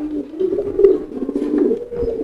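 A fantail pigeon coos loudly and repeatedly up close during courtship, a throaty rolling call that rises and falls, with no talking over it.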